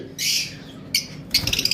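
Chirping calls from a pair of pet opaline birds kept on a breeding farm, arriving in short bright bursts and ending in a quick run of repeated tweets, fairly close and with no talk.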